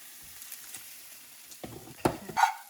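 Breadcrumbs being stirred into stuffing in a pan, faint scraping at first, then a few louder close scrapes and shuffles toward the end, with no voices.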